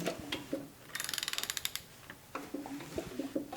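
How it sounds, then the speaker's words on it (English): A Chevy LS engine cranks over with its rear cover off during rear main seal repair, a rapid burst of ratcheting, rhythmic air-pumping pulses, preceded and followed by scattered clanks and handling noises. "you can see and hear the air pumping and hear the motor turning over"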